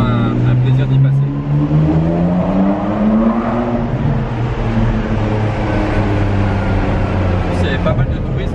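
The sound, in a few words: manual-gearbox Ferrari driving through the Monaco F1 tunnel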